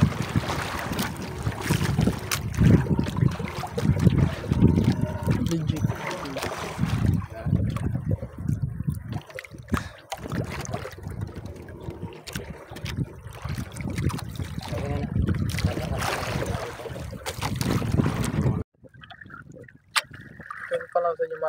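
A boat pounds through big waves at sea in heavy rain, with strong wind roaring across the microphone and waves slapping, loud and continuous, dropping quieter near the end.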